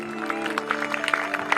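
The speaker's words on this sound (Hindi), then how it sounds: "जोरदार तालियों से परमेश्वर की महिमा करें।" A church congregation applauding during a testimony service, with a burst of scattered, uneven clapping over a sustained tonal background, moderately loud and close.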